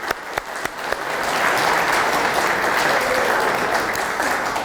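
An audience at a county State of the Fisc address applauds county employees; a few scattered claps open, then the clapping swells into a full, sustained round that stays loud to the end.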